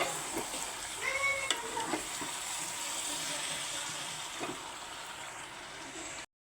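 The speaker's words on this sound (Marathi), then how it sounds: "त्याच्यामध्ये हे आलंबी टाकून झालेली आहे आपली आणि सर्व मिक्स करून घेते" Alambi mushrooms with finely chopped potato being stirred in a frying pan, a faint, soft sizzle with occasional scraping, quiet and steady throughout before stopping abruptly.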